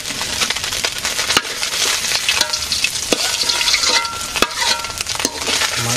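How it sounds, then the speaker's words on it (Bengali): Small fish fry and are stirred in a pan, giving a loud, continuous sizzle with scraping and clattering stirring sounds throughout, close up and with no talk. "মাছ ভাজি হয়ে গেছে"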